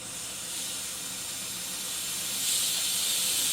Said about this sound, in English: So let's blow this with some compressed air and see what happens.